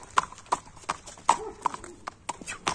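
Horse hooves clip-clop in a quick, uneven rhythm on hard ground, sharp and close, with about nine distinct strikes and a voice speaking faintly underneath.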